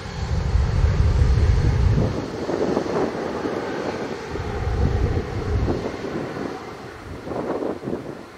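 An airliner on approach to land on runway 07 at Montego Bay airport, Jamaica, its engine roar and wind rumble loudest at first, easing off, then swelling again in waves, with no talk.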